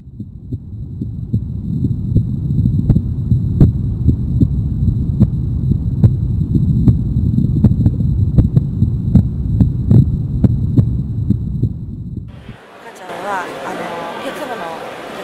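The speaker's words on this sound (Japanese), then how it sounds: "お母さんの心臓の音を一人一人違う心臓の音を録音して CD にさせてもらっています" Recorded heartbeat of a pregnant mother played back from a CD, a loud, steady, muffled throbbing pulse with a low hum, cutting off near the end as other sound begins.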